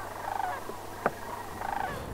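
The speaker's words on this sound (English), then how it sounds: "Massive flocks of sandhill cranes have a very unique sound when they lift off." Sandhill cranes call in a series of rolling, rattling bursts, three evenly spaced calls over about two seconds, fairly faint and distant in open outdoor air, with a soft clunk in between and no voices.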